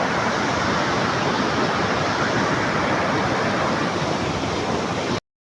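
Floodwater after heavy rain rushing over a bridge in a full, loud, continuous roar like a waterfall, broadband and unbroken until it cuts off abruptly.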